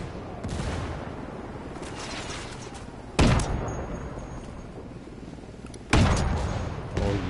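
Gunfire bursts and two sharp blasts from a grenade in a multiplayer shooter game, with a steady crackle of shots between the louder explosive hits, no talking.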